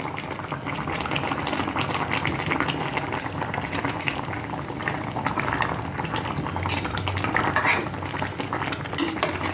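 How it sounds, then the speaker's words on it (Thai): Glass noodles going into a simmering pot of bone and bitter gourd curry: a steady bubbling boil with clinks of a utensil against the pot, close and continuous, with no talking. "เราจะใส่วุ้นเส้นลงไปค่ะ"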